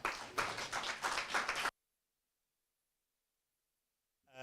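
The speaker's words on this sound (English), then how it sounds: "Round of applause, please, for my panel." Brief burst of audience clapping for a panel at a Cape Town craft and design industry event, close and dense for under two seconds before cutting abruptly to silence.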